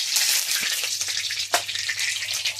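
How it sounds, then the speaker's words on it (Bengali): Mustard oil hits a hot pan while a Bengali bathua saag dish is being cooked, giving a loud, steady, close sizzle with a hissing wash and a few brief crackles throughout. "পুরোটা গরম হয়ে গেছে, দিয়ে দিই তেল, সরষের তেল"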